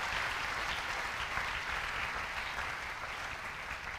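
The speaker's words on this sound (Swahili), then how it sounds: "Pige makofi juu ya neno la Bwana" A church congregation at a Christmas sermon claps together in a dense, even roar of applause that holds steady from start to finish, with no voices over it.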